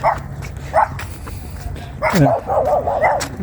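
A few dogs in yards bark at a distance in Bakersfield, California, short yips and barks scattered across the clip, followed by a longer burst of barking.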